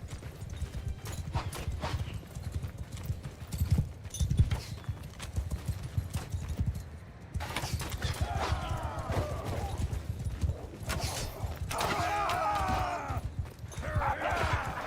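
Horse hooves clip-clop at a gallop with a whinny in a Mount & Blade II: Bannerlord battle, steady hoofbeats over low battle din and clashing effects, some voices faintly mixed in.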